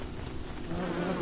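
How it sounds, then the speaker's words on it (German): Bees swarm in the Don't Starve video game, a close, steady insect buzz that hums briefly and faintly without pause. "Das sind nicht mal die aggressiven Bienen eigentlich."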